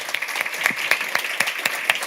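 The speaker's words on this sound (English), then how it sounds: "Round of applause." A conference audience claps steadily, a moderate round of applause with distinct sharp claps, no voices on top.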